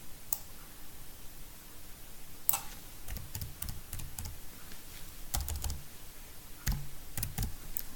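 Typing on a computer keyboard while writing an answer sentence in a text exercise: bursts of close, crisp key clicks in short irregular runs, with quiet pauses between them and no talking.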